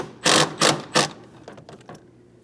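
An 8mm socket ratchets a hose clamp tight on the throttle body of a 2007-2014 Ford Edge 3.5L, giving three loud, close rasping bursts followed by fainter clicks.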